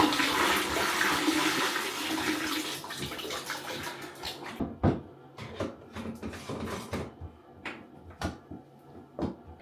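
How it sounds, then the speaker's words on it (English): Waste pours and splashes into a Thetford Porta Potti portable toilet, then gives way to a series of sharp knocks and clatters. "you can tip it down here much closer to the toilet and get less splashing"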